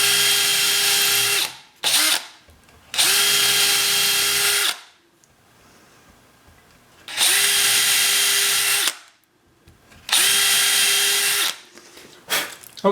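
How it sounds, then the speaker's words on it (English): A power drill bores deeper into a wooden box for a screw in four loud, close bursts of steady whirring, separated by short pauses and quieter gaps. "Let's drill a little bit deeper first."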